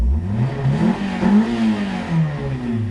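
A Honda Civic modified to run on hydrogen revs from a cold start, its engine rising and falling through a few throttle pulls, loud and close with no talking.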